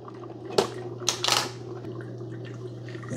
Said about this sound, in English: There's the brew, there's the hot water coming out.